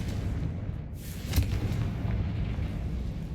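A spell blast in the Hogwarts video game: one sharp boom bursts out about a third of the way in over a steady low rumble of game ambience, with no talking.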